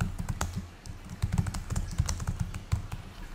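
Quick, uneven keystrokes on a computer keyboard while entering text in a report editor, close and clear, in short bursts with no talking.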